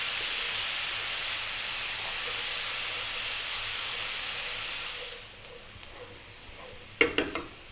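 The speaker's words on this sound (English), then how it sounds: "let's get our onion and drop that in. And we're on a high heat." Chopped onion dropped into hot oil over high heat hisses in a loud, continuous sizzle that gradually settles and quiets, followed near the end by a few sharp clatters of a utensil against the pan.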